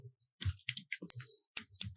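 Irregular, crisp clicks of typing on a computer keyboard, close and fairly loud, in short uneven bursts with small gaps in between.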